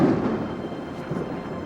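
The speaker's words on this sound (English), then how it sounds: "Amidst a crash of thunder" Rumbling crash of thunder during a rainstorm over an African crater at the end of the dry season, a broad loud roll that stays steady and dense throughout with no speech.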